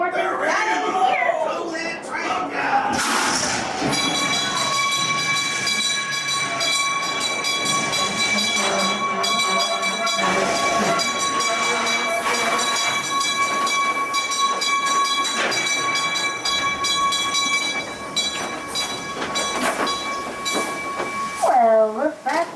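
A rumbling mine ride train at Knott's Berry Farm rolling steadily on rails for a long stretch at night, with sustained whistle-like tones and clanks, under music and voices.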